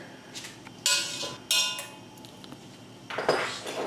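Metallic clanks and scrapes of a cast iron pan being handled on a stove while butter is about to go in, several sharp bright hits, two loud ones early and a burst of clatter near the end, no talking.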